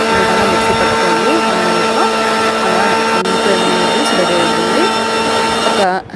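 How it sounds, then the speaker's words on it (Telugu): A kitchen mixer grinder blending watermelon chunks for juice, a loud steady whirring motor hum with shifting pitch as the jar churns, running continuously before stopping abruptly at the end. "మిక్సీ పట్టుకోండి."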